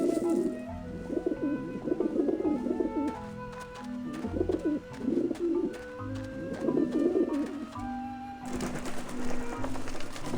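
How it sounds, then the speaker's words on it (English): Pigeons coo in repeated soft bursts beside a crumbled-bread lure in the Grim Fandango game, set over a steady game-music bed, with a brighter noisy wash coming in near the end. "use the bread, crumble it there, and the pigeons will come and eat it"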